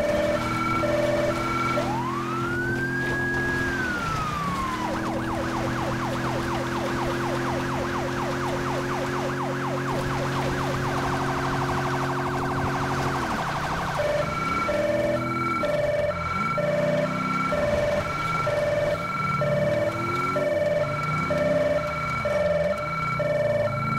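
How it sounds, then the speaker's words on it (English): Federal Signal Delta police siren in GTA V, loud and continuous: a rising wail, then a rapid yelp, a steady tone and a pulsing pattern, cycling through modes over a constant engine drone. "Went back to using the Federal Signal Delta siren."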